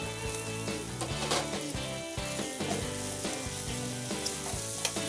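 Marfa, Texas miniature San Marzano tomatoes sizzling with garlic in a hot pan, a steady loud frying hiss with occasional stirring clinks.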